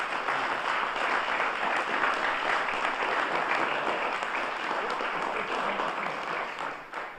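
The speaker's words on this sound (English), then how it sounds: "Let's give all these kids another round of applause." Sustained audience applause at a police academy graduation ceremony, a dense, steady wash of clapping from a large crowd that holds evenly throughout and tapers slightly at the very end.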